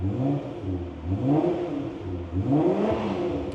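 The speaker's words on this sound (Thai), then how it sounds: "สตาร์ทฟังเสียงเครื่องยนต์กันก่อนดีกว่านะฮะ" A 2008 Japanese-spec Nissan GT-R R35 engine starts and revs up and down in two rising surges, a deep, steady mechanical roar close by with no talking.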